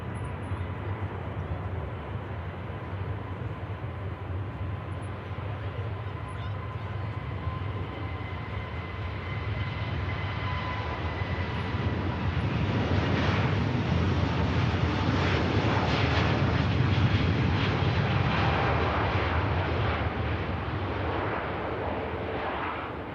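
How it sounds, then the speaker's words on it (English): An Airbus A350-900 departs Manchester Airport, a steady broadband jet roar building to a louder peak in the middle before easing slightly, with some wind buffeting on the microphone. "A350-900 series departs Manchester."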